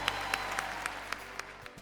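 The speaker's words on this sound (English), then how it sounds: "Sir, our applause for all of you." Scattered, faint clapping from an audience at a hospital fundraising auction, a handful of distinct claps spaced out over a low room hum, brief and distant.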